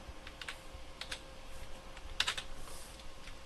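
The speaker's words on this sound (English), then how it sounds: "we can type a little note here" Fast, irregular keystrokes on a computer keyboard while a short note is entered in a Linux terminal, close and fairly quiet, with no talking.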